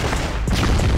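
Grenade explosion in a first-person shooter game: a single dull, muffled boom with a brief noisy burst in the middle of continuous game noise.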